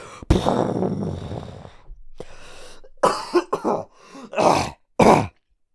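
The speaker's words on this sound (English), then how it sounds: "Real cough." Several harsh, close coughs and throat-clearing bursts, some clustered in quick pairs, separated by short pauses.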